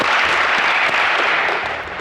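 A studio audience at a TV quiz show applauds a contestant with a dense, steady wash of clapping that stays loud throughout and eases off slightly at the end.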